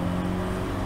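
A BMW 116 race car laps Brands Hatch on a drying track, its engine a steady, moderately loud drone through the brief moment.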